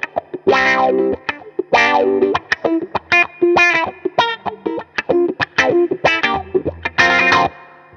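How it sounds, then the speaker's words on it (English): An electric guitar through a wah pedal, distorted chords and notes swept open and closed in short bursts with brief gaps, loud and close. "So that can do the famous wah sound that we'll lay it on us."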